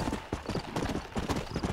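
Horse hooves clip-clopping in a rapid rhythm as a rider passes close by in the Western setting of the Red Dead Redemption video game, moderately quiet.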